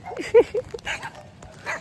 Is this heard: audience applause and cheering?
no